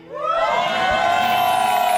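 A studio audience on a Ramadan television program breaks into loud, sustained cheering and shouting that swells quickly and holds steady to the end.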